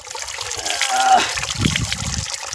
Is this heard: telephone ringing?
no